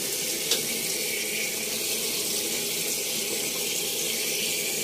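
Tap water runs steadily into a sink while a lapu-lapu fish is washed for sweet and sour cooking, a continuous broadband splashing rush with no voices.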